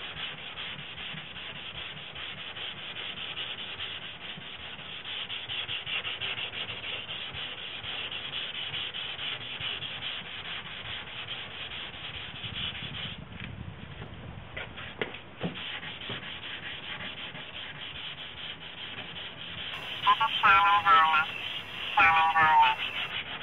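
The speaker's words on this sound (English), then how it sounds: "hit it with a soft pad and a finishing sander or 180" A finishing sander with a soft pad works the body of a 2002 Honda Civic, giving a continuous close whirring rasp that swells briefly louder near the end.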